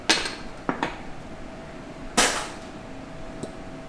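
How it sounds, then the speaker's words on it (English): A 4L60E automatic transmission part from a rusted 2001 teardown tapped against a table, giving a few sharp, close knocks spaced unevenly across a quiet background. "Just tap it on the table and you're good to go."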